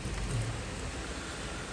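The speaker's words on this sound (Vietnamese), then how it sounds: "Mưa tới rồi anh em ơi." Rain arrives outdoors as a steady broadband hiss of falling drops on surfaces, continuous and fairly loud throughout, with no talk.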